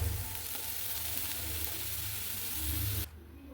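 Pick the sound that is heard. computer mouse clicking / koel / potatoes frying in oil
potatoes frying in oil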